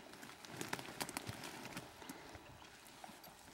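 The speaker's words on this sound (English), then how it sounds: "And when the horse gets here." Horse hooves clip-clopping on an elk hunt, a quick irregular run of soft, faint hoof strikes close by, spaced unevenly over a quiet outdoor background.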